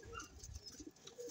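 Soft, low cooing from a racing pigeon, a couple of faint murmuring coos close by with a quiet background hum and no talk.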